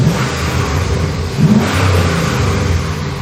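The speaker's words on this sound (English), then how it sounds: "Let's give it some revs." An LS V8 engine swapped into a Toyota 80 Series Land Cruiser revs up and holds a steady, loud mid-pitched roar, with a brief surge partway through and no voices.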